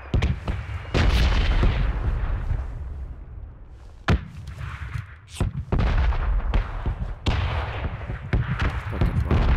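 Bombs burst repeatedly in a shooter game, a dense barrage of loud booms and sharp blasts with rumbling low end, arriving in irregular clusters over several seconds.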